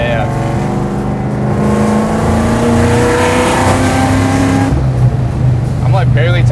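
A supercharged 1000hp Terminator Cobra with a Whipple supercharger accelerates under light throttle, its engine tone rising steadily then dropping to a lower rumble, loud and close inside the car while people talk over it.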